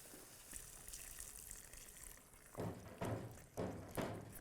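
Water splashes and gushes in a few short pours into egg curry gravy, close by, with a quiet hiss before it.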